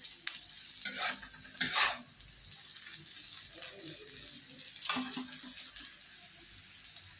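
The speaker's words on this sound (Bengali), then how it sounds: "ওর জন্য একটু ডিম ভুজিয়া করছি" Egg bhujia frying with carrot, onion and cauliflower, a soft steady sizzle broken by a few louder scraping stirs and clatters in the pan, with no talking.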